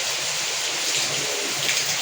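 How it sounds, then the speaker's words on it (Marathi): Heavy morning rain pours down in a dense, continuous hiss of drops striking surfaces, loud and steady with no talking. "सकाळी सकाळी इतका पाऊस सुरू आहे बघा"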